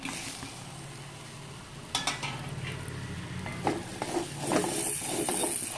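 Capsicum and green chillies are stirred into kadai paneer in a pan, with soft sizzling under repeated spoon scrapes and clinks against the metal.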